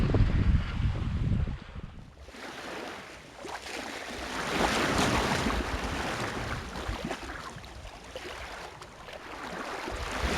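Brisk wind rushes over a sailboat at sea on a solo Atlantic Ocean crossing while waves swell and wash against the hull, a continuous, rising and falling roar with gusty microphone buffeting.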